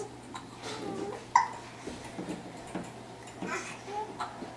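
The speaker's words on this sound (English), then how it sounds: "Now you got the hiccups." A small child hiccups once sharply near the middle of the clip, amid soft babbling and faint household background, close to the listener.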